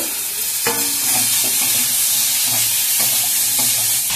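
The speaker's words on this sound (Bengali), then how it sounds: "ভেজে নেব।" Long beans and plantain frying in hot oil for Bengali shukto, a loud, steady close sizzle with occasional stirring scrapes of a spatula in the pan.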